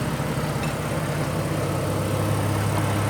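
A Ford Falcon BA inline-six engine idles smoothly and steadily after new ignition coils are fitted, a close, even low rumble with no talking.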